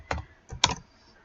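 Three quick bursts of keystrokes on a computer keyboard, close and clear in a quiet room, each a short cluster of clicks with a brief pause between them.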